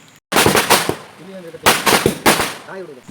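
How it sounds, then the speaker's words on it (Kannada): Several loud firecracker bangs burst in quick clusters, sharp and close, with a few voices talking in between the pops. "ಪಟಾಕಿ ಎಲ್ಲ ಹೊಡೆದ್ವಿ"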